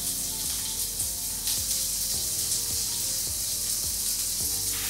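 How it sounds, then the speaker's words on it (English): Finely chopped Spanish onions fry in hot oil in a pan, with a loud, constant hiss and crackle close by and faint regular scraping as they are stirred. "We've heated up some oil. It's quite hot now. And we're going to brown and soften these Spanish onions."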